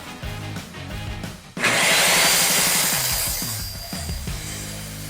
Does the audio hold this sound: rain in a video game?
no